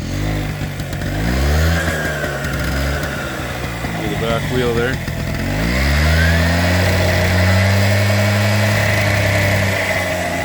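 A 1983 Honda PA50 II moped engine runs steadily up close after a carburetor swap, its buzzing note rising and falling with small revs while someone talks over it.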